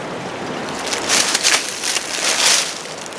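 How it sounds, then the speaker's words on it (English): Water from a natural spring runs down a rock face, giving a steady wash of broadband trickling and splashing that swells in a few soft surges, close by with no voices. "There's a natural spring coming up the rock."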